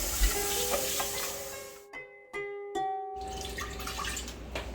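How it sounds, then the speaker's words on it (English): Water runs and splashes into a syrup pan being rinsed out, a steady hiss broken by a brief gap and a few clinks, with a faint tonal hum underneath. "So we are rinsing the pan out right now for the final 10-minute cook."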